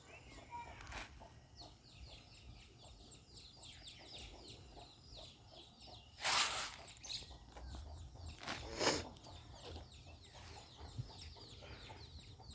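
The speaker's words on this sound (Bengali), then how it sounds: "মুরগিগুলো।" Chickens cluck softly in a yard shared with pigeons, scattered low calls under a faint background chatter of birds, with a few sharp louder bursts.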